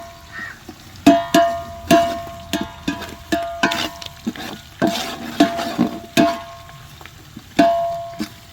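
Onions sautéing in a pan for a spicy chicken gravy, with a steady low sizzle broken by repeated sharp clanks and scrapes of a spatula stirring against the pan, close and fairly loud.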